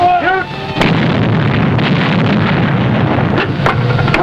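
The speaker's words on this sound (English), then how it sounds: "Ready to open fire, sir. Open fire. Shoot." Warship guns fire on surface raiders in 1941 wartime footage: a heavy booming salvo, then a sustained roar of artillery blasts and wind rumble, with further sharp reports near the end.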